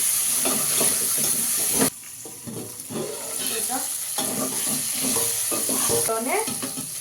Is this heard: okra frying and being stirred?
yes